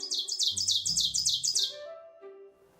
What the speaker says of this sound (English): That parabolic trill, so it starts low, gains higher, and then comes back lower again. That's a pine warbler.